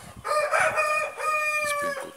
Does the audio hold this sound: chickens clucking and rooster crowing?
yes